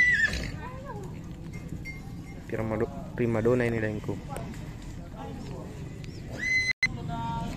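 Horses at a morning horse market in Tolo, with several short whinnies and snorts rising over a steady crowd murmur; people talk nearby throughout, one voice close to the microphone.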